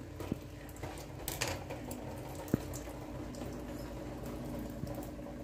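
Water runs steadily from an RO water purifier into a container, a continuous soft rushing and trickling with a few faint clicks and knocks, heard alone without talk.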